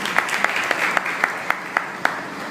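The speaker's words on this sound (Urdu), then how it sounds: "بجائے زوردار تالیاں آسمان کے لیے" Church congregation clapping loudly, dense continuous applause with a few sharp single claps standing out at a regular pulse, heard alone.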